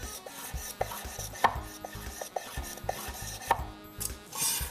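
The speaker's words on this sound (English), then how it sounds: "Always remember sliding the knife backward and then just kind of moving forward, just like so." Kitchen knife cutting smoked sausage into long bias strips on a cutting board, a series of short sharp chops and taps repeating at an uneven pace, close and fairly quiet, with no voices.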